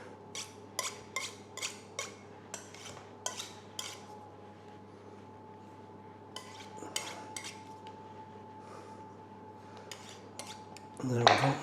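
Excess pastry is trimmed off a minced beef and potato pie with a knife, a series of sharp metallic clicks and scrapes against a dish, uneven and close up, ending in a louder clatter.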